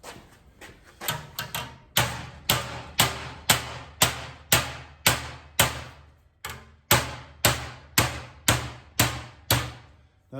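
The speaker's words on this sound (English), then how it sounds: "we'll just knock this down, get a good start on it, and then we can finish it off with a hammer and dolly" A hammer strikes sheet metal being bent down for FJ-40 Land Cruiser running boards, about twenty sharp ringing whacks in a steady rhythm, close and loud with short decays.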